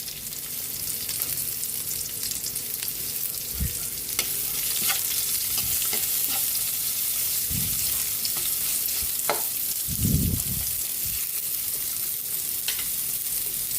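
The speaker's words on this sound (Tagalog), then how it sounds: "Luto na yung bawang, lagyan natin yung sibuyas." Onion hits hot oil with fried garlic in a pan, a steady broadband sizzle with occasional stirring knocks and scrapes, close and continuous with no talking.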